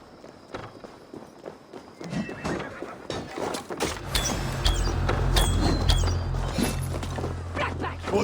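Horses whinny and neigh amid a chaotic Assassin's Creed Valhalla siege battle, with hoofbeats, clashing and rumbling low noise building steadily and filling the scene.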